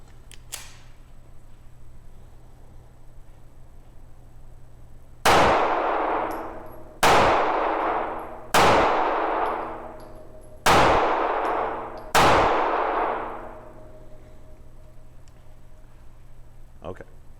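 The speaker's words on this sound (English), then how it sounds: "So I'm going to be shooting 5 rounds of Aguila 124 grain." Five sharp pistol shots from a 365 SAS firing Aguila 124 grain rounds, loud and close, spaced about two seconds apart, each with a ringing decay.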